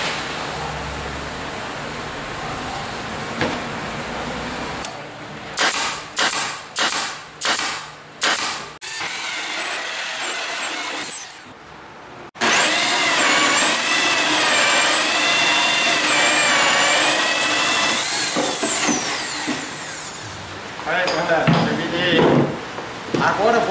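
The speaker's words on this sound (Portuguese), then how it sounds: "eu vou cortar na serra copa" A hole saw cuts wood for a speaker box: a loud, sustained whining drill roar with a high squealing tone, preceded by a series of short knocks and followed by shorter bursts, with talk in the background.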